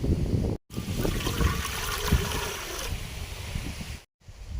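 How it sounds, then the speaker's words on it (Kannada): Water poured into a pot set on a lit wood stove for jaggery tea, a steady close splashing flow running for a few seconds with brief interruptions. "ಪಾತ್ರೆ ಇಟ್ಟಾಗಿದೆ ಇವಾಗ ನೀರ್ ಹಾಕ್ತಾ ಇದೀನಿ"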